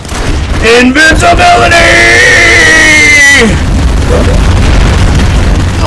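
Booming video game bomb explosions from a Terminator bomb, loud and layered with a rising tonal sweep lasting a few seconds before fading into rumbling noise, with someone shouting over it.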